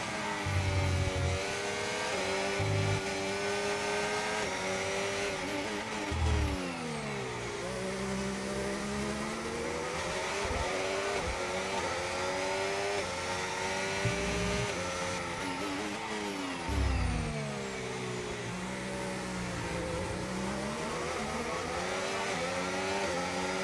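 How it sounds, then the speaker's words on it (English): F1 car engines racing in the F1 25 video game, high whining revs rising and falling with gear shifts through corners, a continuous layered engine tone with no talking. "We have Stroll gonna go for overtake here"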